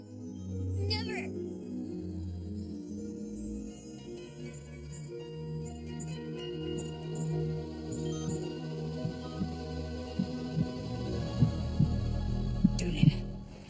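A low, steady pulsing throb of a heartbeat used as an encoded comm signal in an animated sci-fi scene, repeating under a humming electronic bed with brief voice fragments.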